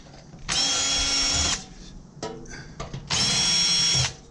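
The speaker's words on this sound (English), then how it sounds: "when there's a lot of Torx screws, I prefer to just get a bit onto my screwdriver with a Torx bit on it" Electric screwdriver fitted with a Torx bit whining steadily as it backs screws out of an aluminium piece on a remote radio unit, two sustained bursts of about a second each, close and loud, with small clicks and handling noise between them.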